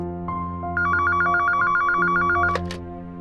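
A telephone rings in a steady repeating trill that sits over a low musical score, loud and close with no talk.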